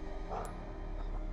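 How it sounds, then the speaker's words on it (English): A household dog barks in a room behind a gamer, a few quick, faint yips that stand alone over a low background hum. "I'm so sorry about the dog."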